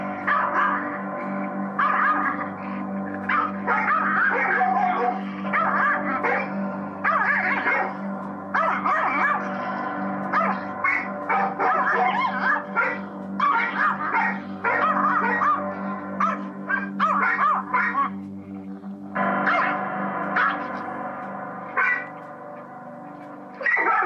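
A stressed dog barks repeatedly in close, rhythmic bursts, mixed with yips and whimpers, persisting for a long stretch with brief pauses.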